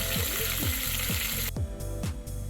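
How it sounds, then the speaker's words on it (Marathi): Stuffed green chillies fry in a pan with a steady, loud sizzle of hot oil, punctuated by repeated soft scraping and stirring strokes as they are turned. "एक पाच मिनटं आपण दोन्ही बाजूनी भाजत भाजत मिरची तुमची उलट सुलट करून घ्यायची"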